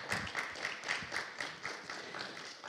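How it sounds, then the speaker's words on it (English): An audience at a talk on protecting the Mediterranean Sea claps in a faint, steady rhythm, with individual claps distinct and evenly spaced, heard from a distance. "So a huge applause now for our colleagues."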